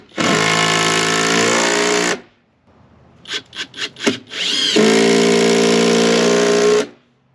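A power driver sinks 1/4 by 3 inch screws into a wooden shed ramp header, two long loud whining runs separated by a few short rapid bursts and a brief pause.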